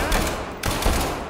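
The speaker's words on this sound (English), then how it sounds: "this 1911 has the recoil of a god" Rapid pistol gunshots from an M1911 in the video game SCP 5K, two dense bursts of loud, close shots split by a brief gap, with no talk over them.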